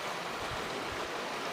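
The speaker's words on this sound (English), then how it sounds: "Everybody loves to hear the creek running." A mountain creek runs with a continuous, even rush of water, soft and steady throughout, with no voices.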